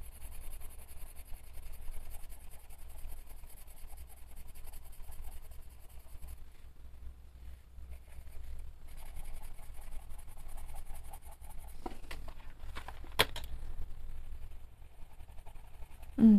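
Soft colored pencils drawing on paper, a faint continuous scratchy rubbing of strokes with a few brief pauses and some sharper ticks near the end.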